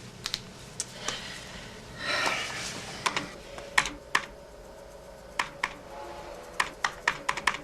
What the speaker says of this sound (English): A keyboard. How quaint.